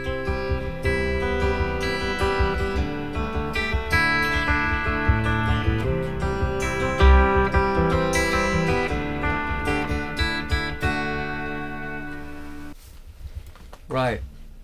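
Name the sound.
clean guitar in drop D through Neural DSP Rabea amp plugin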